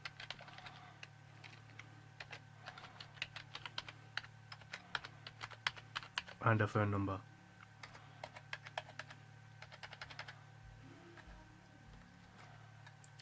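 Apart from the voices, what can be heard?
typing on a computer keyboard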